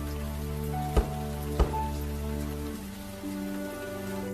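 Rain falls on a spring night by a river in a soft, steady patter with a low sustained hum beneath it, broken by two brief sharp knocks.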